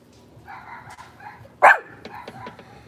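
A small female dog indoors lets out one sharp, loud bark close by, with low whining and snuffling around it.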